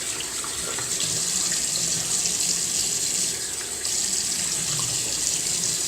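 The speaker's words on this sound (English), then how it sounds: "Went ahead and wet my face a little bit. I rinsed out my Eric Sorrentino brush, and so wet it a little bit more" Steady running tap water while a face and shaving brush are wet at a sink, a continuous close hiss and splash with a brief dip partway, with no talking.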